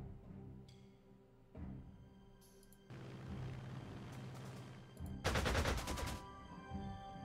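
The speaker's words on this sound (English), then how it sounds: "Gonna do some reconnaissance and some strafing of enemy positions." Video game gunfire from aircraft strafing enemy positions in Panzer Corps 2, with rattling bursts and booming impacts building to a loud, dense volley near the end, heard alone without talk.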